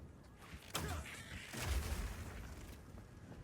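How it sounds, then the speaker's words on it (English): Explosive crossbow blast in the video game Path of Exile 2: two muffled, fairly faint booms about a second apart, the second heavier and rumbling as it fades. "It does a big explosive blast at a distance."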